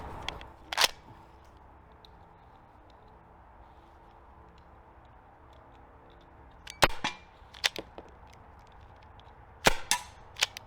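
A Byrna HD less-lethal launcher fires sharp, snappy shots outdoors, one early pop, then two clusters of rapid cracks later, with quiet gaps between.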